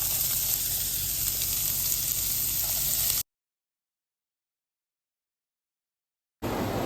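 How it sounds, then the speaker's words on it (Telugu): Onions and cumin frying in butter in a pan give a steady, close sizzle that cuts out abruptly to silence for about three seconds, then resumes. "ఫస్ట్ బటర్లో కొంచెం జీరా వేసుకొని నేను ఆనియన్స్ వేసుకున్నాను"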